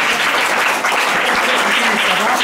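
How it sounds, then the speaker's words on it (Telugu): Schoolchildren at a government school in Jagtial applaud their teacher Raghunandan, a dense, steady burst of many small hands clapping close by without pause. "ఫస్ట్ పిల్లలు మీరందరూ రఘునందన్ సార్ చప్పట్లు కొట్టారు బిడ్డలు"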